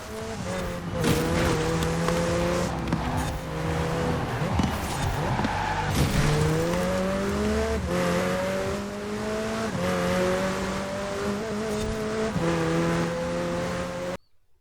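A sports car engine in Forza Horizon 4 screams through repeated gear shifts, revs climbing and dropping in waves, with brief tire squeals before it cuts off.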